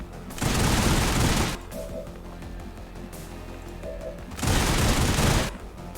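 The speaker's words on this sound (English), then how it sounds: "suppressing fire is fucking phenomenal" Suppressing gunfire in XCOM 2, heard as two loud sustained bursts of rapid shots, each lasting about a second, separated by a quieter stretch of game ambience.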